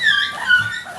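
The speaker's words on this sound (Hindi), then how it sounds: "ये देखो कुत्ते दिखाए, कुत्तों का कलेक्शन।" Dogs yelping and whimpering during a scuffle, a short burst of high-pitched yips and whines, close and fairly loud.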